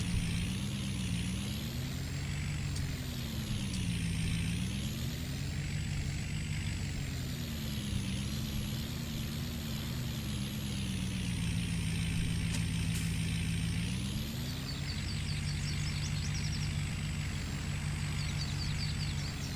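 A heavy truck with air brakes runs steadily up close during trailer hook-up on a farm, its engine note rising and falling with a brief hiss near the middle, no talking.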